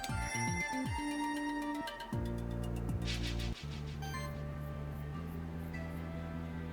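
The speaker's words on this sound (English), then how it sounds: "Or I could ring a monster bell." A monster bell rings in the Monster Sanctuary video game, a run of bright chiming tones over steady electronic game music, with no voices.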